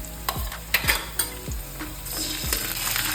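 Sliced onion and grated taro fry in a pan with cumin, a steady close sizzle broken by several sharp spatula scrapes and stirring knocks against the pan.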